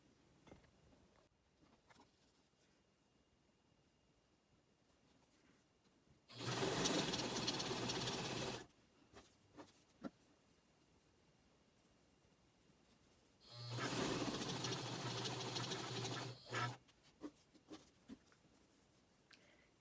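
A sewing machine stitches the side seams of a denim tile quilt block in two separate runs of steady whirring of a few seconds each, with quiet handling noises and pauses between them.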